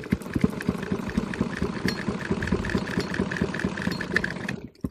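A sewing machine stitches a half-inch seam on a 44-inch belt blouse with a steady rapid chattering rhythm. The sound runs continuously, close and fairly loud, for about five seconds.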